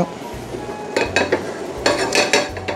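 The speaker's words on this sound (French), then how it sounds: "Un petit filet d'huile d'olive, très peu. Et on vient d'abord mettre l'oignon et la blette." Onion and chard go into a pan with a little olive oil: metal utensils clink and scrape against the pan in short bursts, with a faint sizzle beneath and no talk.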